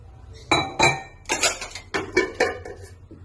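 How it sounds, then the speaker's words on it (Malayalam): Pots and dishes clink and clatter as they are washed in a home kitchen while cooking beef varattiyathu, a run of about eight sharp metallic knocks at uneven intervals, close and loud, with no talk. "പാത്രം കഴുകിയിട്ട്"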